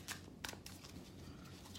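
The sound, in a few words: shuffling tarot cards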